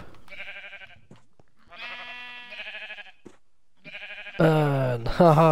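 Several sheep in Minecraft bleat in wavering, nasal calls, three separate bursts spaced by short pauses, with the final bleats louder and harsher.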